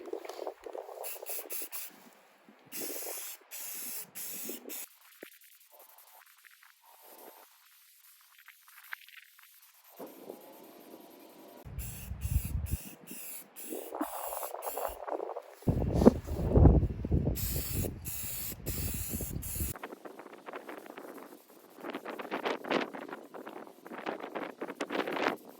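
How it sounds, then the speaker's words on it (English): Water spray hissing as it rinses prepped rust spots on a car body in a garage, coming in intermittent bursts of varying strength with quiet gaps between, fairly faint overall. "So I'm going to get some water. We're going to rinse it off"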